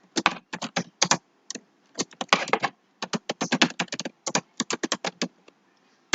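Rapid, irregular keystrokes on a computer keyboard as a name is typed, close and crisp clusters of clicks with short pauses between bursts, and no voices.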